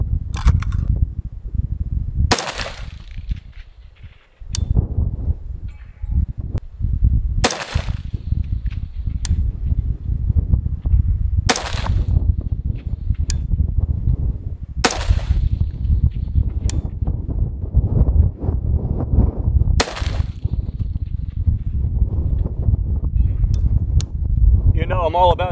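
An AR-15 rifle fired at a target outdoors, about seven sharp, loud reports spaced a few seconds apart over steady low wind rumble and talk.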